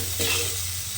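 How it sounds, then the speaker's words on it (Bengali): A spice paste with turmeric and dry red chili powder is stirred and fried in a pan, a steady close sizzle with a brief scraping swell, no voices. "এবারে মশলাটাকে আমার খুব ভালোভাবে কষিয়ে নিতে হবে"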